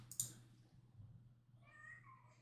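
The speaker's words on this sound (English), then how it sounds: "Oh, that's my cat." A house cat meows quietly once or twice in a room near a computer, faint against a low background hum, preceded by a sharp click.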